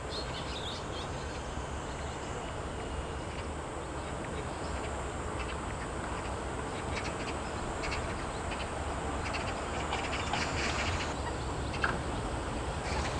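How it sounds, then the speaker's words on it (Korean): Mallard ducks at a reservoir make a continuous, busy chorus of calls from a flock. The calls overlap densely at an even level over an outdoor ambience, with no talking. "그동안 저수지에 사는 청동오리도 식구가 늘었다."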